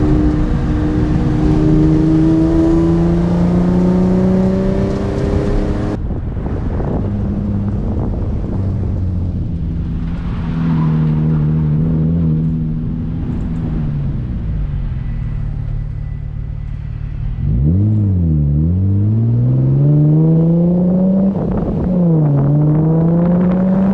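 A Nissan 350Z drift car's engine drones loudly and steadily throughout, with its pitch climbing and falling in several revs, sharp dips and rises near the end, heard up close with no talking.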